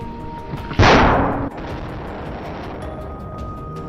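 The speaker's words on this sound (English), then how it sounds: "The shot rang out, and the boar collapsed, tumbling down the hillside by momentum." A single loud rifle shot cracks out during a wild boar hunt on Texas farmland hillsides, followed by a rolling echo that fades over about half a second into steady outdoor background.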